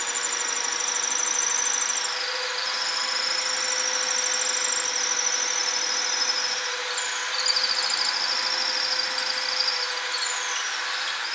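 A power drill runs continuously with a high whining motor tone, its pitch dipping and rising slightly as the load changes, steady and close throughout.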